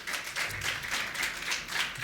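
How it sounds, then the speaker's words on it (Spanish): Congregation applauding in a church, a sustained wash of clapping that swells and ebbs in loose rhythmic pulses at moderate loudness. "¿Alguien le puede dar un aplauso fuerte al Señor?"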